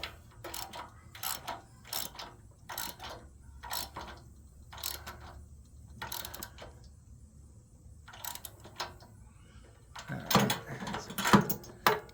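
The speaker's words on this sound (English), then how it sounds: "we'll get my ratchet and we'll flip it around and put it back in" A ratchet tightening a spark plug on a Powermate generator, repeated short bursts of close clicking in a steady rhythm with brief pauses, growing louder near the end.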